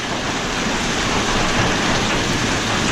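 Heavy rain and hail pour down during a severe evening storm, making a loud, dense, unbroken roar of pelting impacts close by, with no voices.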